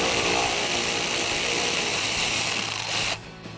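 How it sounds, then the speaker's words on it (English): A power tool whirs continuously while backing out a 10 millimeter bolt on a Jeep Wrangler JL, a loud close-up buzz lasting about three seconds before it stops abruptly. "we can remove that 10 millimeter bolt up at the top"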